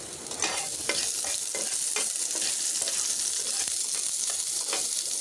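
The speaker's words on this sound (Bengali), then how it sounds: "দিয়ে দিচ্ছি পেঁয়াজ" Onion sizzles in a small amount of hot oil in a pan, a steady bright crackle with soft stirring scrapes repeating throughout, close and without talk.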